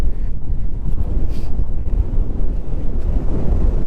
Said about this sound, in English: Oh, she's blowing out here. Crazy wind.